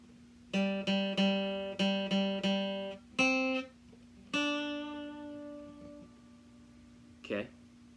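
Guitar picks out a phrase of the Mandalorian theme: a quick string of plucked notes with a steady drone underneath, a few sustained notes ringing out and fading, and a faint knock near the end.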